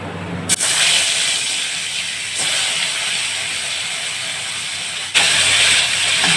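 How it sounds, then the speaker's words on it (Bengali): Koi fish sizzle in hot oil in a heated wok (kadai), a loud continuous crackling hiss that swells sharply as the fish hits the oil and surges again partway through, with no talking. "মাছটাকে ভেজে নেব"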